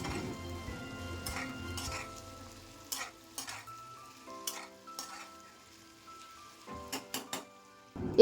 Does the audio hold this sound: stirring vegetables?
yes